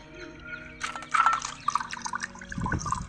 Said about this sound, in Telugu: ఒక 2-3 టైమ్స్ వాటర్లో శుభ్రంగా క్లీన్ చేసుకొని